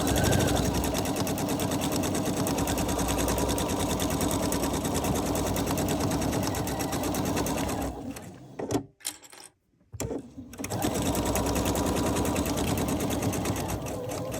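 A home sewing machine runs steadily, stitching the seam of a pillow with an envelope closure, close and loud, with a brief pause near the end before the stitching resumes.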